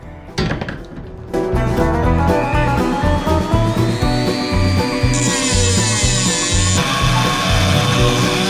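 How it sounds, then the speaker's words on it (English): A power tool cuts through excess aircraft spar cap material for a Bearhawk build, a loud, steady buzzing grind that starts after a brief pause and then runs continuously and close, shifting pitch slightly as the cut goes on. "Gonna cut off the excess right here"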